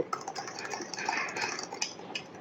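Dhokla batter being stirred in a bowl after Eno is added, with quick light scraping and clinking of a utensil in a busy, irregular rhythm.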